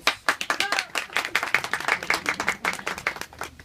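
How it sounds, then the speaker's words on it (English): An audience at a Kapa Haka performing arts concert at Te Puia claps in a brisk, dense burst of applause close by, rising and easing slightly as it continues. "Round of applause."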